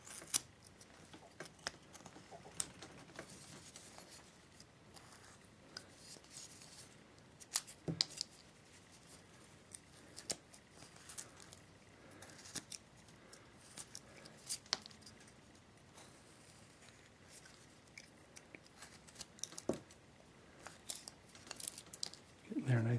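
A carving knife cuts into a wooden Santa figure as it is roughed out, giving a series of soft, close scraping and snicking strokes at irregular intervals over quiet background.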